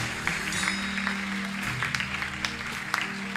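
Worshippers at a church service clap together in a steady patter beneath sustained droning music tones, with a few sharper claps standing out.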